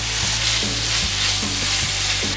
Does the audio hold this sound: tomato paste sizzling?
yes